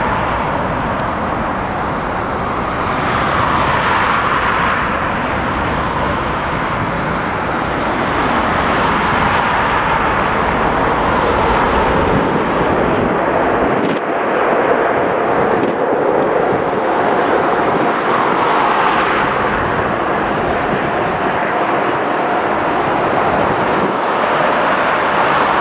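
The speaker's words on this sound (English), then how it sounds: "A6EEW, Emirates A380" An Emirates A380 airliner lands on runway 27L at London Heathrow, a long, steady roar of jet engines blended with broad rushing wind noise. The sound stays loud and continuous throughout.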